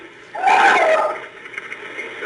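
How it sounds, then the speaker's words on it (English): A man yells for help in the background of an emergency phone call, a distant, strained shout swelling for about a second, then fading into faint line noise. "So you think he's yelling help?"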